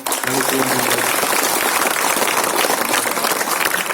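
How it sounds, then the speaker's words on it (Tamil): A school audience at a Pongal celebration claps in welcome for an honoured guest, a dense, loud and sustained burst of many hands that fills the whole stretch. "நமது சிஓ அவர்களுக்கு மீண்டும் ஒரு சிறப்பான வரவேற்பை கைத்தட்டல் மூலம்"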